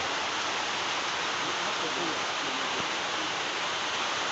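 Rain falls at a forest-edge hut at the last shelter before the trail into the jungle on a mountain climb in Lampung, a steady broadband hiss filling the whole clip, with faint voices murmuring underneath.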